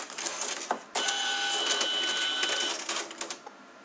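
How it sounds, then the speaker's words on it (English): An Alps printer feeds paper through and prints, giving a quiet mechanical whir with steady tonal hum through the middle and soft clicks and rustles at the start and end; no one speaks. "Since the file's so small, it barely feeds through the printer"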